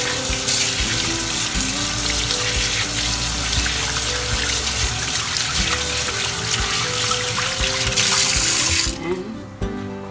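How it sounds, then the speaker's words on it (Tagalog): Tap water runs steadily into a sink while hands are washed under the stream during homemade espasol preparation, a continuous close hiss and splash that cuts off near the end. "Hugas tayo ng kamay, guys. Maghugas tayo ng kamay."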